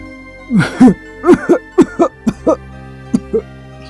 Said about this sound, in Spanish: Mi abuelo tuvo un ataque de tos